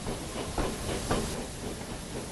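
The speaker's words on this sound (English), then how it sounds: "And with that, James puffed away to collect his waiting coaches." A steam locomotive from the Thomas and Friends game chuffs steadily over a broad hiss of steam and rail noise, with soft rhythmic puffs rising out of a continuous wash.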